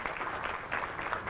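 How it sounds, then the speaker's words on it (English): Audience applause after three presenters at an education presentation, steady clapping from a room at moderate volume with no talk over it. "let's give all three of them a round of applause."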